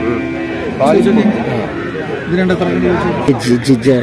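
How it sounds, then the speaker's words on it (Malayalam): A Jabalpur buffalo at a livestock sale gives low moo-like calls amid the crowd, with people talking loudly close by throughout. "ജബൽപൂർ പോത്താണ്"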